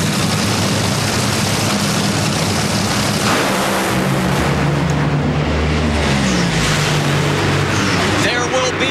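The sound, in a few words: NHRA drag racing car making a run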